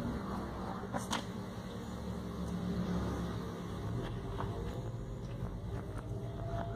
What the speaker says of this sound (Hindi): अब आप इंजन की नॉइज सुनना